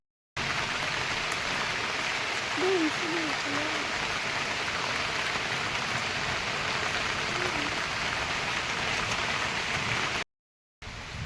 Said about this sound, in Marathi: पावसाला सुरुवात झाली बघू शकता तुम्ही थोडा थोडा पाऊस गलतो